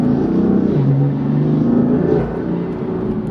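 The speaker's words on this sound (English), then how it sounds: "There's also some like flutter when you let off, almost like a blow-off type sound." A BMW M4 with a dual intake revs steadily in the mid range, its turbocharged engine droning loud and close with a dip as the throttle eases, a faint flutter possible on let-off.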